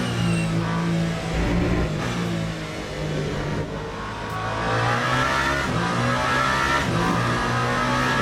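Race car engine in the Le Mans Ultimate video game, screaming at high revs down the long Mulsanne straight with a continuous droning roar and slight pitch shifts, loud and alone.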